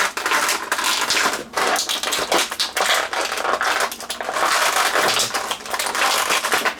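A McFarlane Batman Issue 1000 action figure is wrestled out of its plastic packaging, with loud, continuous close-up crinkling and crackling that comes in busy bursts with no speech.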